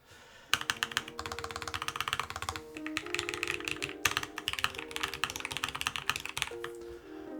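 Rapid, dense keystrokes on a Chosfox VERO75 low-profile mechanical keyboard, close and steady with occasional brief pauses, each click crisp and solid-sounding.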